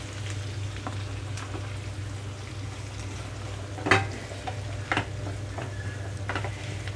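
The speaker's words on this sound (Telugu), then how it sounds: "ఇప్పుడే ఇందులోకి నేను బెండకాయ ముక్కలు వేసేస్తున్నాను" Okra pieces tossed into a pan of fried onions sizzle with a steady, dense crackle, broken by a few sharp clinks of a spoon against the pan.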